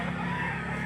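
A rooster at a poultry auction market in Lipa, Batangas, a brief sustained crow heard up close over noisy crowd ambience.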